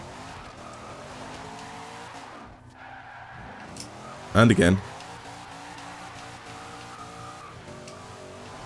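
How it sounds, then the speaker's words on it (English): Drift truck in Forza Horizon 2 sliding through corners, its engine droning and tires squealing in long skids, with a brief loud burst midway while someone talks over the game sound. "This is a really fun truck to drift in"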